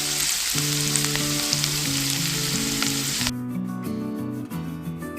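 Ginger fries in hot oil with a loud, dense sizzle that drops abruptly partway through to a thinner, quieter crackle, heard close up with no one speaking.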